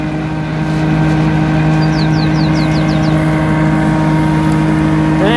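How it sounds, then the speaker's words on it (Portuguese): A BM 125i tractor working wet, muddy soil while chopping corn for silage, its engine a loud, steady drone with a constant low tone that holds throughout, close and alone with no talk. "O trator atola."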